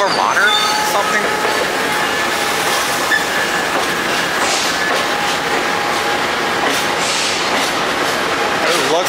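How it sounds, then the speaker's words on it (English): A loud Amtrak Vermonter passenger train rushes past at close range, a continuous roar of wheels on rail with a faint squeal and rhythmic clatter, heard from aboard the Amtrak Cardinal as voices talk quietly underneath. "It looks like that could be the Vermonter train."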